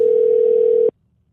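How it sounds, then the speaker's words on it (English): A single steady telephone hold tone from a phone tree plays loud and clear for just under a second, then cuts off abruptly into silence. "Trying to work through a phone tree."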